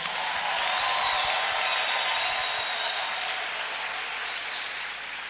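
A church congregation applauds and cheers during a French-language sermon, a dense, steady roar of clapping filling the whole stretch before easing slightly at the end, with no speech over it.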